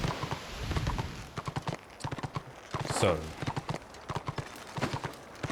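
Horse hooves clip-clopping in the online fantasy game Warhammer Online, a steady run of sharp hoof knocks at close range, carried under a man's speech throughout.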